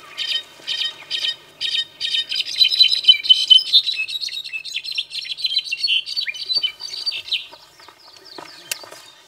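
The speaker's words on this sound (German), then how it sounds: "Doch der lautstarke Braunrücken-Clarino lenkt unsere Aufmerksamkeit auf sich." A brown-backed solitaire in a cloud forest sings loudly and close, a long run of bright, rapid chirps and metallic whistled phrases, dense through the middle and thinning toward the end against a quiet background.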